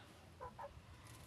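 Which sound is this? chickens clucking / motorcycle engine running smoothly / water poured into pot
chickens clucking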